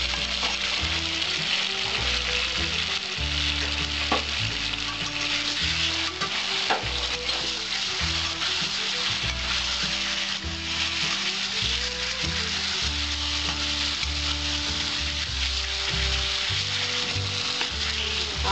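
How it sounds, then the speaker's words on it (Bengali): Potatoes fry in spices for a Bengali-style boal fish curry, giving a loud, continuous close sizzle that lasts throughout over steady background music. "দিয়ে আমি 5 মিনিট কষিয়ে নেবো আলুটা মশলার মধ্যে"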